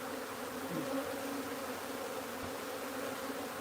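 Wild honey bees buzz steadily in a dense, continuous drone while being moved from a wild hive into a new box, close and constant with no talk.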